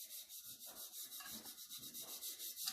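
A hand rubs colorshift mica onto a tacky tumbler surface, a soft rhythmic swishing that repeats about twice a second, close and steady with no voices.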